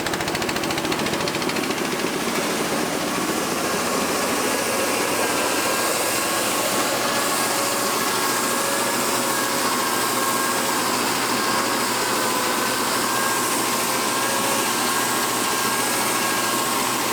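Gasoline-powered air compressor on a boatyard, a continuous steady mechanical drone with a broad hiss, running unchanged throughout at moderate level with no voices.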